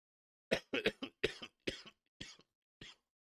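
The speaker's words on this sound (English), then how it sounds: "As I die of a mad coughing fit." A single person coughs in a burst of about seven harsh, separate coughs, close and fairly quiet, with short gaps between them and silence around.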